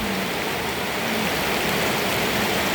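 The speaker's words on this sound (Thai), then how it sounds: "วันนี้บ้านเพชรฝนตกจ้าแม่แม่" Heavy rain falls at a house, a constant, even roar of drops close by with no pause or voices through the whole stretch.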